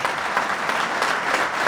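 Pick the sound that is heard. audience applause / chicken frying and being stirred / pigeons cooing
audience applause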